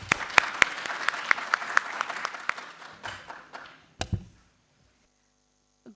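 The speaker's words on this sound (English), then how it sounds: "Please give them a big round of applause." An audience at a public policy and governance conference applauds a panel, with loud sharp claps that thin out and fade to near silence, followed by a few isolated claps at the end.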